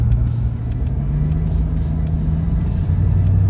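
A 1989 Mercury with a fuel-injected 5.0 engine drives along a road, giving a steady, loud, low engine drone with a constant hum and road rumble throughout and no talking.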